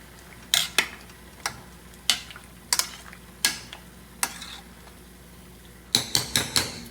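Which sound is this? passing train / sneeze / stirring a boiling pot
stirring a boiling pot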